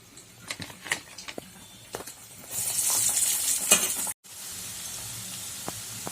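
Black-eyed pea vadas fry in hot oil with a soft sizzle that grows louder for a couple of seconds, broken by faint clicks and taps, then settles to a quieter bubbling.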